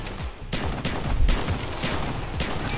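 Rapid bursts of gunfire from a Call of Duty Black Ops campaign firefight, several loud cracks and volleys in quick succession with no talking over them.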